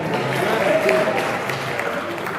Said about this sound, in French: vous applaudissez, applaudissez celui qui est capable de faire les choses